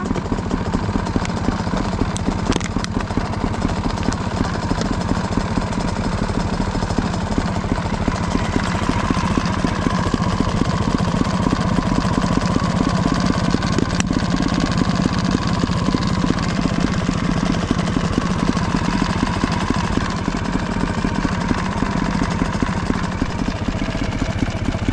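A trial motorcycle engine putters steadily at low revs while being ridden slowly, a close continuous mid-pitched chugging with slight changes in throttle and no talking.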